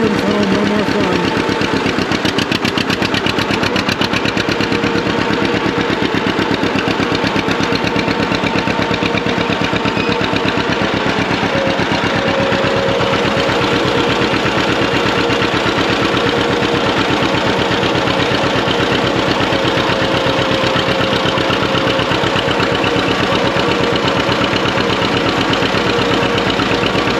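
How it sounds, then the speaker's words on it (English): A John Deere two-cylinder tractor engine runs steadily for the whole stretch, loud and close, its characteristic uneven popping exhaust beat thumping along without any talk. "Anything really sound better than a 2-cylinder?"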